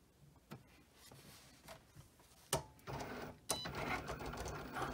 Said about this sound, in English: I'm just going to click on the Cricut C again to tell it that I want to cut another time.